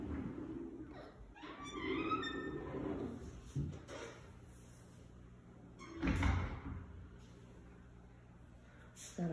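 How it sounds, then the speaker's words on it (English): A pocket door in the master bathroom of a house in Punta Gorda, Florida, rolls along its track with soft scraping and rumbling, then gives a firm thud as it closes, followed by quiet room tone. "Got a pocket door here."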